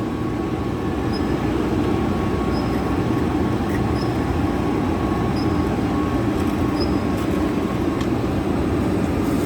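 An incinerator with preset temperature gears runs with a steady, loud low roar and broadband rumble, continuous throughout with no talk.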